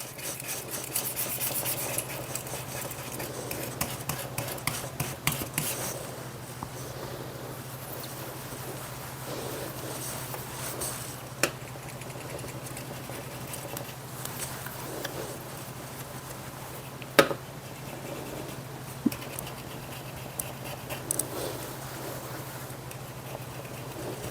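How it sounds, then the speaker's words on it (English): A scraper worked with cleaner across a kitchen surface gives a long stretch of soft rasping and rubbing under a steady low hum, with a few brief clicks and taps and no talk. "I've got the scraper out. Never use a scraping tool dry. I always use cleaner."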